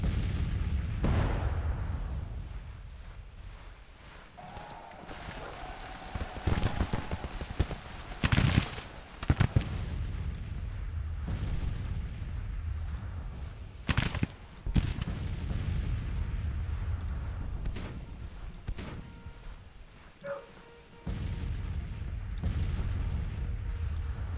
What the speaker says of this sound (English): How many times I gotta tell you, ignore that damn artillery?